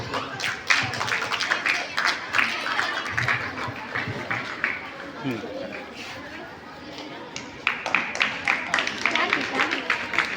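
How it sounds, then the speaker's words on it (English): An audience claps at a school inauguration ceremony, a spread of scattered, moderate hand claps over crowd chatter, with a voice speaking through the applause. "give you a big applause."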